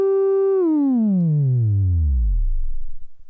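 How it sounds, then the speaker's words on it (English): Synthesizer oscillator on a 4ms Shaped Dual EnvVCA module holds a steady buzzy tone, then sweeps steadily downward in pitch until it fades into low rumbling clicks, heard alone. "the rise and fall times will get longer, and therefore the pitch of this oscillator will get lower"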